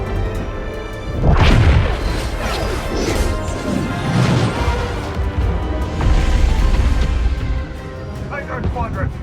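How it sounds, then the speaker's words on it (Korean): Star Wars: Squadrons game scene where the Starhawk ship collides with a moon and explodes, giving a loud, sustained roar of crashing and booming blasts with whooshing debris, with narration over it. "마침내 제이브스의 계획대로 스타우크는 발리탄 위성과 충돌하여 거대한 폭발을 일으키고"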